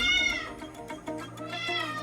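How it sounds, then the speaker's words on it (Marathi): A house cat in a village home in Konkan meows close by, two drawn-out calls with rising and falling pitch, the second starting about halfway through, heard alone without talk. "ही आमची मांजर मध्ये मध्ये आवाज करते."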